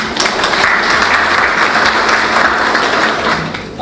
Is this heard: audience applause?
yes